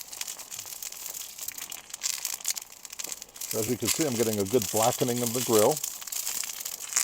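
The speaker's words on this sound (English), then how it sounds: "And that noise you're hearing, that's the spatter." Oil spatters and crackles steadily on a hot griddle being seasoned, a continuous close, gritty sizzle that runs under a man's speech throughout.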